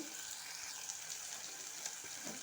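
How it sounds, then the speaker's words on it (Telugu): Potatoes frying in oil in a pan, a steady soft sizzle with faint crackles and light stirring sounds, close and alone with no voices. "నేనైతే ఆలుగడ్డలు వేసాను కదా నూనె కొంచెం ఫ్రై కావాలన్నమాట"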